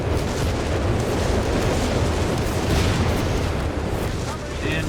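Heavy artillery barrage in the strategy game Company of Heroes 3 erupting in a dense, continuous rumble of overlapping explosions, loud and sustained throughout with low booming bursts layered under a faint voice.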